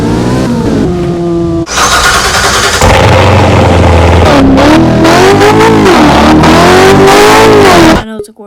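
A Corvette in the Roblox driving game Driving Empire revs loudly up and down through rising and falling engine pitches, a loud continuous game-engine sound that cuts off abruptly near the end.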